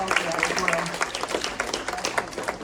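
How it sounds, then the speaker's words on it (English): An audience claps for a teen speaker at a panel discussion on aging out of Florida's foster care system, giving steady dense applause that runs throughout, with a voice talking over it. "You all give her a round of applause for that"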